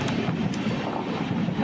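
The Netravati Express train crosses close by as a steady, broad rushing rumble of wheels and wind, loud and unbroken throughout.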